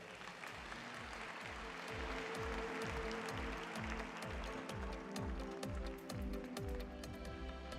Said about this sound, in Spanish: Un aplauso a Lawrence Krauss